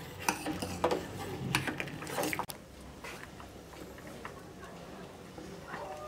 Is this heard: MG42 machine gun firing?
no